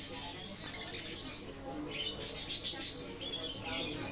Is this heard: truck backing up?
no